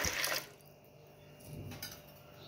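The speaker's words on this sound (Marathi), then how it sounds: "आता आपण ह्याच्यामध्ये पाणी टाकून घेऊ" Water is poured into a pressure cooker holding washed toor dal, a short close splash and gurgle at the start that fades into a quieter trickle, brief and fairly soft with no voices.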